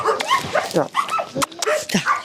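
A rescued dog at a Kolomyia animal shelter whimpers and yips in short, close, high-pitched bursts while a person talks softly to her.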